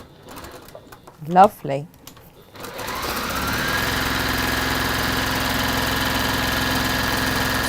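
A sewing machine runs steadily for several seconds, top stitching through pressed denim with an even whirring drone, after a few words spoken nearby.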